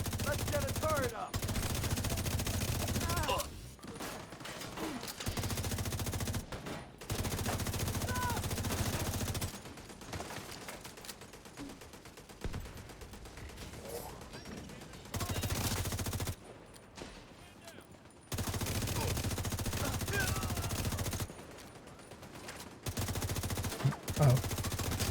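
A deployed turret in a video game fires long, rapid bursts of automatic gunfire that stop and start in blocks of several seconds, with quieter gaps between. A voice talks now and then over the shooting.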